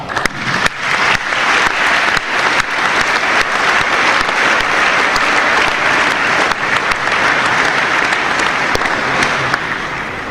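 An audience of parents and friends at a faith celebration gives loud, sustained applause, a dense wash of clapping that continues steadily for the whole stretch.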